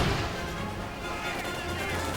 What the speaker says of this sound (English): Looks like a mine went off somewhere.